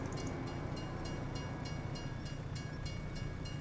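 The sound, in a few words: train passing by in Farming Simulator video game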